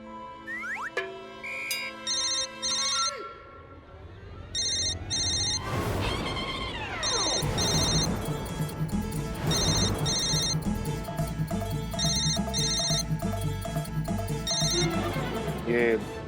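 A phone ringtone plays a repeating electronic melody in regular bursts, with talk and other sounds mixed underneath.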